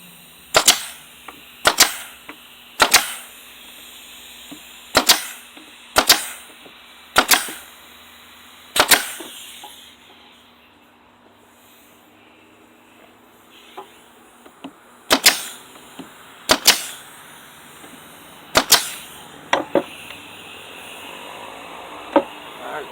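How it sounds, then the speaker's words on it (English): Sharp, loud nail gun shots drive nails into a 2x4 wood shelf, coming in quick bursts of several rapid cracks separated by short pauses, with a quieter stretch in the middle and no talking. "So let's go ahead and shoot some nails right here"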